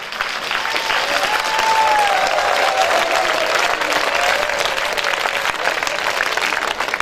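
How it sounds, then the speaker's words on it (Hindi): A seminar audience applauds steadily for several seconds, a dense crowd clapping that swells slightly then holds, with a faint voice underneath. "जोरदार तालियां।"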